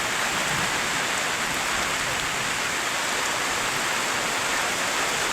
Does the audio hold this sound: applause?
no